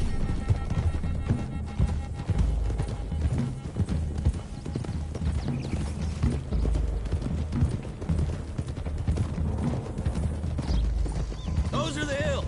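Horses gallop in the Red Dead Redemption 2 video game, their steady clip-clop of hooves rolling on without a break under a dense bed of game ambience and music.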